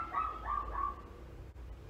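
A dog gives a few short whiny barks and yips in a quiet room, three quick high calls near the start followed by steady low background hum.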